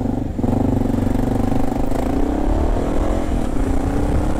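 A Honda XR650L dual sport motorcycle rides through New York City traffic, its engine a loud, steady, close drone with a rhythmic pulsing throb throughout.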